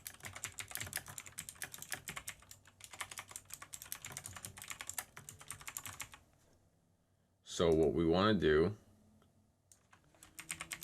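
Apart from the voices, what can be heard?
typing on a computer keyboard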